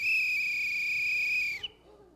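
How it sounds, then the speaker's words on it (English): A whistle blown for a physics sound demonstration gives one steady, shrill, piercing tone for about a second and a half, then cuts off abruptly, leaving a quiet room. "It's a whistle."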